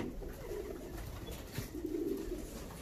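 Soft, low coos of young pigeons in a loft repeat in gentle rounds over a constant hiss of background noise, fairly close and not loud.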